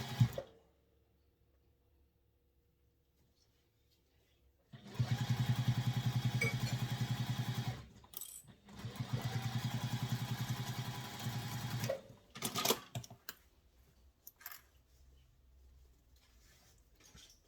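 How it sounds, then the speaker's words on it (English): An electric sewing machine stitches a handbag seam in two sustained runs of fast, whirring mechanical chatter separated by a brief stop, followed by a few shorter bursts and quiet clicks near the machine, with no voices. "sew it with the seam allowance specified in the pattern"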